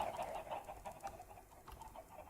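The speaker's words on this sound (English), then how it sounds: "Lots of chickens" Chickens cluck in a modded Minecraft world, quiet repeated short clucks close together over a faint background, with no talking.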